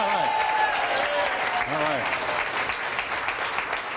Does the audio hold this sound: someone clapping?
yes